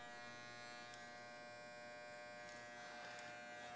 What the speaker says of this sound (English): I'm just going to shave in just a little bit to the natural hairline